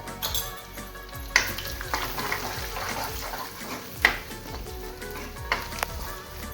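Cumin, mustard seeds and turmeric sizzling in hot oil with garlic while sautéing, a steady crackling fry with occasional sharp pops and stirring clinks.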